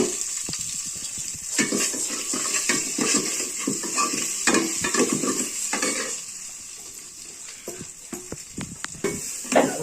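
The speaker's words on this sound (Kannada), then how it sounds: "ಸಾರಿಗ ಒಗ್ಗರಣೆ ಇರ್ತೈತೆ ನೋಡಿ" Hot oil sizzles and crackles while a utensil scrapes and taps the pan in quick irregular strokes, close up and fairly loud.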